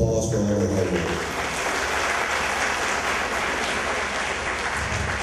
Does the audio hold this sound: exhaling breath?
no